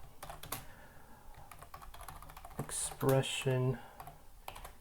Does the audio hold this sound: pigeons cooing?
no